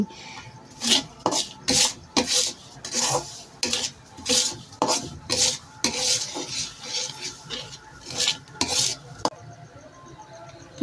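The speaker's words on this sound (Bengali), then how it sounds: "হয়ে গেছে সুজি ভাজা" A spoon scrapes rhythmically around a dry pan of roasting semolina, brisk repeated rasping strokes close up, pausing near the end.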